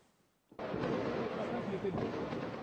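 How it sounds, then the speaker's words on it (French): After a brief hush, a dense, continuous barrage of gunfire, about 300 shots over four minutes, erupts and keeps going without pause, loud and rough. "Les rafales de tir durent 4 minutes, 300 coups de feu, puis plus rien."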